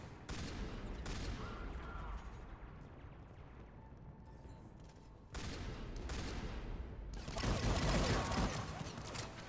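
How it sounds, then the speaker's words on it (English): Sustained gunfire from several weapons in the sci-fi shooter Mass Effect 3, on the Omega mission, with dense bursts that drop briefly and then return louder toward the end, under occasional talk. "two of my guns are firing at least"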